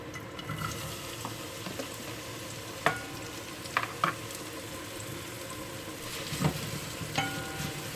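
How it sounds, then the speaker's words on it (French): Sliced onion strips frying in a shallow layer of oil, a constant close sizzle broken by a few scrapes and clicks from stirring, with nobody talking. "J'ai mis donc un fond d'huile. Je vais rajouter l'oignon que j'ai coupé en lamelles."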